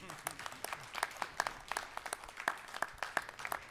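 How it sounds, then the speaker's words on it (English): Attendees at a county commission meeting applauding, a modest scattering of distinct claps, fairly faint and uneven, with some talk underneath. "If you'll clap on that."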